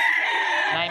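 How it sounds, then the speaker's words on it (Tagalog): Rooster crowing with chickens clucking at a busy pet market in Bocaue, a loud, close, sustained call filling the whole moment. "Ang ganda ng manok niyo."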